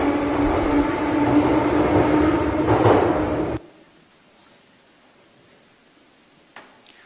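Loud rumbling train noise fills a Paris metro station for about three and a half seconds, then cuts off abruptly to a quiet station hush with faint distant clatter and a short knock near the end.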